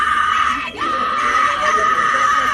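A woman screams loudly and continuously, a sustained high-pitched shriek with only a brief break for breath, filling the whole stretch at close range.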